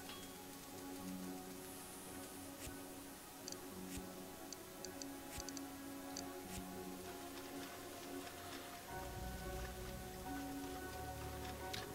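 Rain in the video game Ghost of a Tale: a faint, steady patter of drops runs under a regular ticking and occasional light taps, with no one talking.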